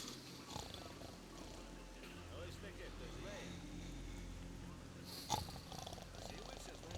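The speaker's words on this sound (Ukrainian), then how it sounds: "Можеш не хропіти, ти вже встав." A creature snores in S.T.A.L.K.E.R.: Shadow of Chernobyl, a low rumbling purr droning steadily under game ambience and a voice, with one sharp clatter breaking in near the end.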